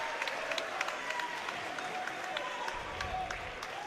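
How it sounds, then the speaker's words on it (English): Crowd applause rings out for both fighters at a fight event before the final round, a steady dense clatter of clapping that holds throughout, with a voice talking faintly underneath. "big round of applause for both fighters before they go into the final round"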